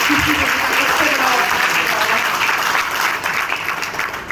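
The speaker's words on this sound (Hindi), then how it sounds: "तो एक बार जोरदार तालियां हो जाए।" An audience at a direct-selling business talk breaks into loud sustained applause, dense clapping with some crowd noise that continues throughout and eases slightly toward the end.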